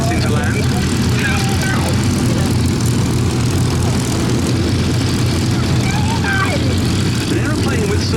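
Beech D-17S Staggerwing propeller biplane coming in to land at an airshow, with a steady, loud radial engine drone throughout and a commentator talking over it.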